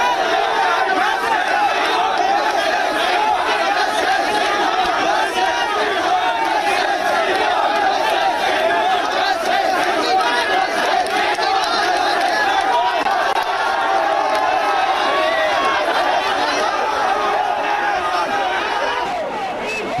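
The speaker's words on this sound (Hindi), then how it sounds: "और नारेबाजी होती है।" Protest crowd gathered in Hyderabad after Friday prayers at an anti-CAA demonstration, chanting slogans; a dense, loud, continuous roar of many voices shouting together, steady throughout with no pauses.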